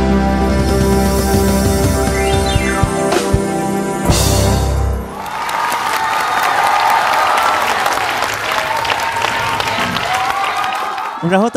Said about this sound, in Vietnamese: Một tràng pháo tay thật lớn cho Cao Công Nghĩa và Thiện Nhân